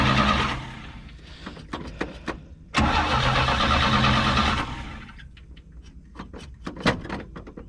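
A 1968 GMC truck engine cranks in two long grinding bursts, the second catching briefly before dying, followed by scattered clanks and knocks close by.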